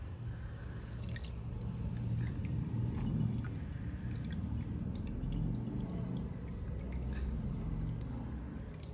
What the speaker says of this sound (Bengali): আমি ওপর থেকে জল ঢেলে দেবো